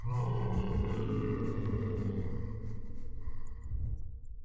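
A wolf growls in the Curse of the Aztecs video game, a deep sustained rumbling roar that stays loud and close for several seconds before easing off, with no talk.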